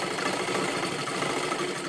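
A sewing machine runs steadily, double stitching along a marked line on fabric, its motor humming continuously with a rapid, even mechanical chatter throughout, no talk heard.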